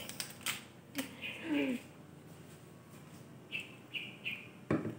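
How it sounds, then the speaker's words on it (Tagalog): Small birds chirping outside in short, high tweets and trills, fairly faint and spaced out, with a few soft clicks in between. "Tumutunog yung ibon."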